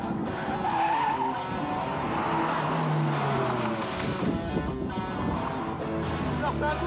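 A stunt car on studded tires slides sideways across asphalt, its tire skid and engine noise fairly faint and steady, as if heard through an old tape recording.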